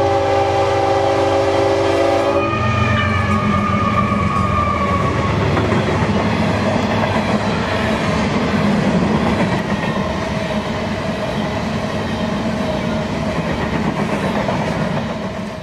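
An empty TO-80 coal train passes close by at Blackwater Creek, its horn sounding at the start, then a loud continuous rumble of wheels and cars clattering along the rail.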